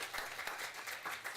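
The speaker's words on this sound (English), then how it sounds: "I'll give you a round of applause for that." Audience at a city council meeting in Turlock clapping, a short, faint patter of scattered hand claps from a small crowd.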